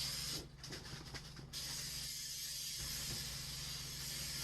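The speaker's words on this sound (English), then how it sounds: "So I'm going to give it a little spray." A spray bottle mists oil over flour-coated chicken wings bound for an air fryer, a steady close hiss running for several seconds with short pulsed spritzes near the start.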